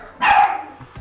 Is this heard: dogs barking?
yes